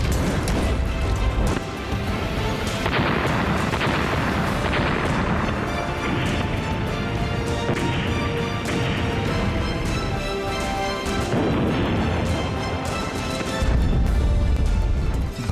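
Heavy bombing and shelling rumble in Lebanon during fighting between Israel and Hezbollah, with dense, continuous booms and crashing blasts layered over a loud, chaotic background.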